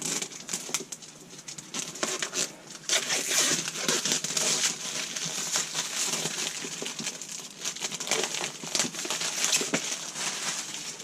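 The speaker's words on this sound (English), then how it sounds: "Tear the plastic off." Plastic wrap being torn and crinkled off a NOCO Boost HD GB70 jump pack box, crackly rustling and crumpling close up that comes in uneven bursts for several seconds.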